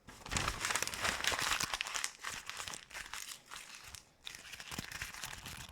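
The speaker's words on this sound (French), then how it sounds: "ASMR papier." Sheet of paper being crumpled in the hands up close, dense crinkling and crackling bursts in quick succession with a brief pause before more scrunching, no talk.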